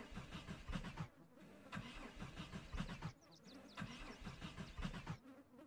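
A car in the video game Project Zomboid is entered and its engine cranks over and over in rough rhythmic pulses, fairly quiet, with short pauses between attempts.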